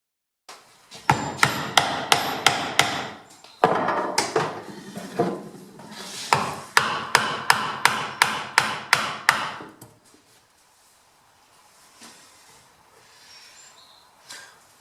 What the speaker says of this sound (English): by hammering down through the plug